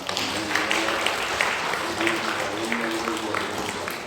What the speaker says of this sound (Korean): 우리 하나님께 감사와 찬송과 영광의 박수를 올려드리겠습니다